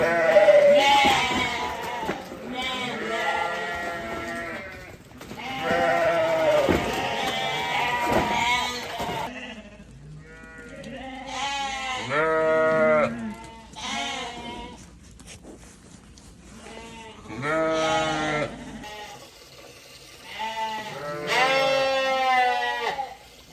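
Ewes bleating loudly and repeatedly on a farm during hoof treatment, overlapping calls from several sheep close by with brief lulls between bursts.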